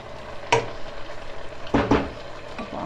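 Garlic is tipped into a pot of homemade simmering sauce and stirred, giving a few scraping, clattering stirs over a low, steady bubbling sizzle. No one talks.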